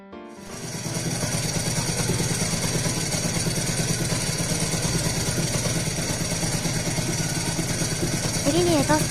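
A Honda NSR250R two-stroke engine fitted with an ETHOS expansion chamber idles at just under 1500 rpm, giving a steady, loud, raspy burble that stays continuous throughout, recorded close by.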